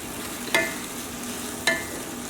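Asparagus and thyme cook in a pan with a low, constant frying hiss, and two sharp utensil taps sound about a second apart.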